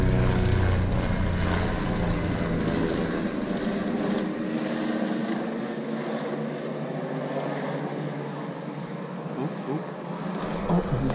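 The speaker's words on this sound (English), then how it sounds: "Helicopter making for great audio" A helicopter passes overhead during urban pond fishing in San Antonio, a steady droning rotor and engine roar that stays loud throughout the clip and slowly shifts as it moves.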